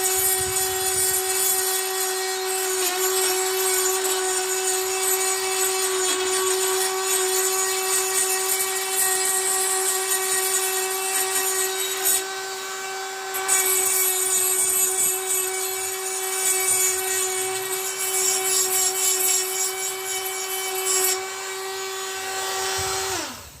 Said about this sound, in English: So we'll get the worst of it off with this Dremel